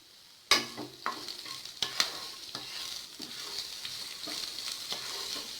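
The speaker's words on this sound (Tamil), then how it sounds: "அதையும் சேர்த்துட்டு இதில் தேவையான அளவுக்கு கொஞ்சமாக சால்ட் போட்டு வதக்கிக்கலாம்" Thinly sliced capsicum sautéing with salt in a pan for egg noodles, a steady close sizzle with sharp clacks of a spatula stirring against the pan at intervals, no talk.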